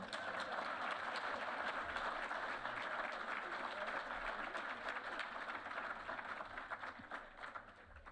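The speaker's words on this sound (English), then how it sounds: "You can clap if you want to." Audience applause at the Jet Award 2022 ceremony in Nebraska, a dense, steady wash of clapping from a large crowd that continues throughout and tapers slightly near the end.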